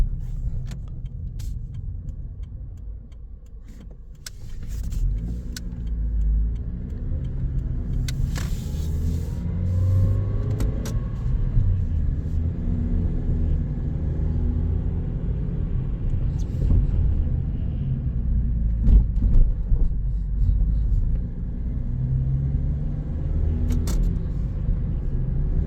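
A car drives with a fully slipping clutch, its engine droning low and steady with muffled rumbling from inside the cabin, occasional rises in revs and light knocks and rattles.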